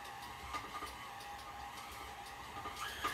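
A stand mixer runs at low speed mixing flour, giving a steady, moderate whirring hum with faint rhythmic beating throughout, no talk over it.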